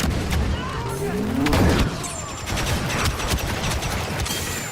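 Grenade blast in a Star Wars shooter game, a loud burst around the middle amid a dense, continuous battle of rapid blaster and gunfire bursts, with no clear talk over it.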